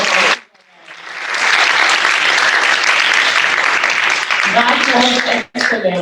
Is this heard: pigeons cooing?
no